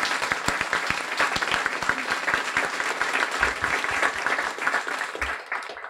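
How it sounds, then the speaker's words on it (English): A large audience at a guide dog school graduation ceremony gives sustained, even applause with dense clapping throughout, fading slightly at the very end. "Let's give a warm round of applause for all our graduates."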